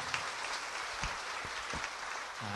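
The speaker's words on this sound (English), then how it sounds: "Even my English is bad, you also clap." An audience claps steadily in a dense, even patter of applause at moderate distance, with no talk over it.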